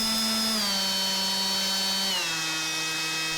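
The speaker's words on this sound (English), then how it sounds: "So right now I'll let you hear the different speeds." A RIDGID OCTANE 18V brushless quarter sheet sander runs continuously with a loud, high motor whine that steps down in pitch twice as the speed setting changes.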